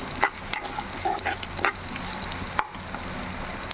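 Rice with turmeric being stirred in a pan, with a steady sizzle of frying under scattered scraping strokes of a spoon against the pan; no talking.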